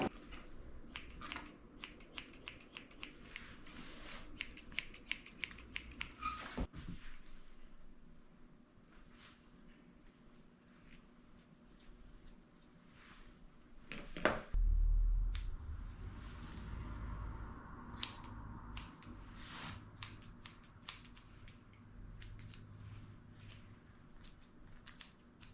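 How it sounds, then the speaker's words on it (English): Slightly curved grooming scissors snip through a Maltese poodle mix's hair in quiet, irregular clusters of crisp metallic cuts, close to the mic over a soft background hum. "the scissors I'm using are slightly curved just to help it be more round"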